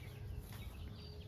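Chickens on a small family farm with one rooster among them, soft clucking sounds steady and fairly quiet over a low farmyard background, with no talking.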